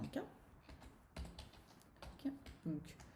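Quick keystrokes on a Belgian computer keyboard during spreadsheet work, a few soft clustered taps close to the microphone over a quiet room.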